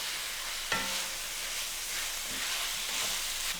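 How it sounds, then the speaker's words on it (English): Beef browning in a pan for stew, a soft steady sizzle running throughout with a sharper clack near the start, like a utensil stirring the meat against the pan. "We just want to brown the beef a little bit"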